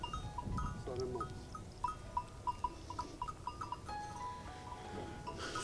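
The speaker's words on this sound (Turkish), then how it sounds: "Bu herhalde Maltız kırması değil mi? Maltız kırması. Kırma bir keçimiz." On a village farm, livestock moves about a Maltese crossbreed goat while bells clink in repeated bright tinkles, with scattered shuffling and knocks close by and no talk.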